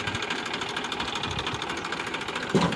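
A Massey Ferguson 1035 tractor pulling a fully loaded paddy trolley on a rough, dangerous road runs with a steady, fairly quiet diesel chugging and rattle, with a brief louder clunk near the end.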